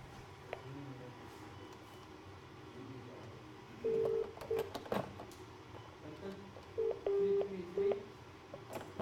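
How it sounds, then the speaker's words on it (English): Telephone dialing tones sound while a call to a base station is attempted. Short beeps come in two clusters over a low background murmur, close and clear. "Let me try to phone from there to a base station and see."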